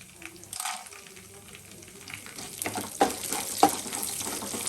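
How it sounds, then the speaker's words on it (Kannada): Mustard seeds, chana dal and urad dal fry together in hot oil for quick upma. The sizzle is moderate and crackling, with sharp pops and spatters that grow busier toward the end. "ಸಾಸಿವೆ ಕಡಲೆಬೇಳೆ ಉದ್ದಿನಬೇಳೆಯನ್ನು ನಾನು ಇದಕ್ಕೆ ಮೂರು ಒಟ್ಟಿಗೆ ಹಾಕ್ಕೊಳ್ತಾ ಇದ್ದೀನಿ"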